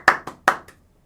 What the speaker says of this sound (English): If you all hate Forest, clap your hands.